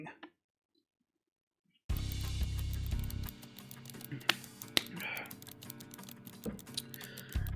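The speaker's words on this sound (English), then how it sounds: "Sounds of fingers tapping on a keyboard and a pen tip scratching against paper among them." Keyboard typing with a pen scratching paper at a desk in the Limbus Company video game, a steady layered clatter of taps and scratches after a brief silence, with sharper clicks scattered throughout.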